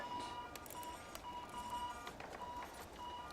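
Repeated electronic warning beeps from the airport management game SimAirport sound in short, evenly spaced tones, moderately loud, over a steady hum of game ambience.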